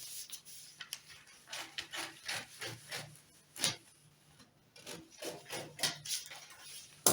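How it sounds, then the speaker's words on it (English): Scissors cutting through dress fabric on a table, a series of rasping snips and rubbing strokes in uneven rhythm, close and fairly quiet with short pauses between cuts. "So I'll cut it out now so you understand it."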